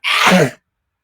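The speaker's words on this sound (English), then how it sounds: "I have a sneeze coming." One loud, abrupt sneeze, a sharp burst that cuts off after about half a second, followed by silence.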